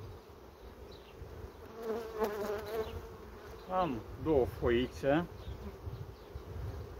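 Honey bees buzz steadily around an open hive during work with empty frames, a low drone running throughout while a person speaks briefly in the middle.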